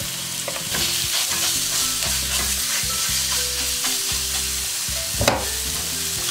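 Lard and chopped speck fry in a hot pan with a steady, loud close sizzle, broken by a few scraping stirs.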